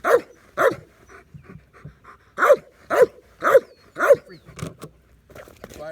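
A dog barks repeatedly in short, sharp bursts, roughly one every half second, close and loud, with brief pauses and panting between barks.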